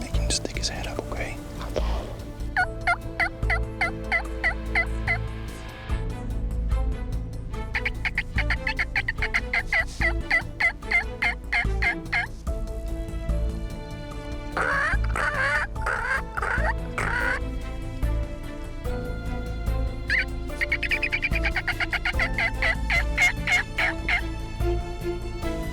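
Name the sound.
turkey calling and gobbling during a youth turkey hunt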